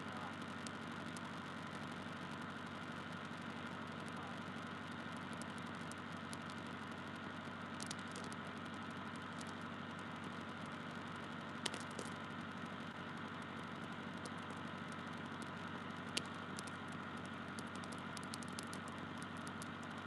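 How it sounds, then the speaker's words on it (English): Boat engine on an Alaskan longline vessel idling in a low, steady drone with a faint whir, heard for a long stretch with a few brief clicks and no talk. "you can hear the engine today?"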